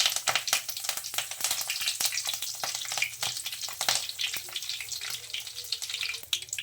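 Mustard seeds and curry leaves frying in hot oil, a faint steady sizzle speckled with sharp popping crackles scattered irregularly throughout.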